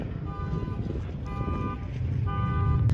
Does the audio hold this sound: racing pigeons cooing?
no